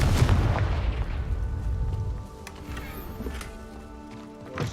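Magical Confringo spell blasts in the Hogwarts Legacy video game, a loud booming burst at the start that rolls off into a fading rumble, with a smaller thump near the end.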